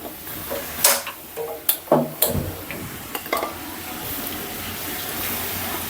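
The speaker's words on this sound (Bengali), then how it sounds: "আমি আর এক পাতিল পানিও দিয়ে দিচ্ছি" A few clanking knocks of cookware, then a steady rushing of water pouring into a pot that carries on to the end.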